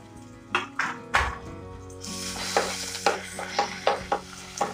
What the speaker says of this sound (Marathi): लसणाचा आपला वास निघून जाईल तोपर्यंत आपण हे परतून घ्यायचे